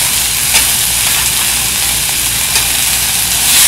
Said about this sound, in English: so you can tell by the sound of that sizzle that the pan's already cooling down